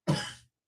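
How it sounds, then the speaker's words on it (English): A single short cough, close and fairly loud, fading out within half a second. "apparently I'm gonna have a little coughing fit."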